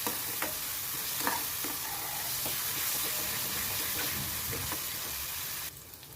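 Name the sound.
tomato paste frying in oil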